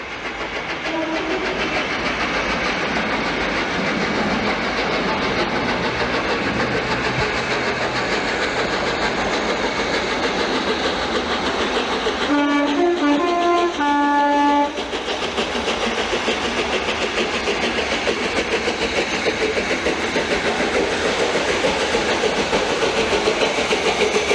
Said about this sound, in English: Duke of Gloucester emerges from the maze of tunnels about 300 yards from the old tunnel mouths.